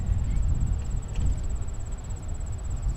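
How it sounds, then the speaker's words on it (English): Grasshoppers in shrubbery make a steady, high-pitched pulsing chirp that carries on without a break over a low rumbling background. "that high-pitched, annoying chirping racket, well, in the shrubbery here, there are a bunch of grasshoppers"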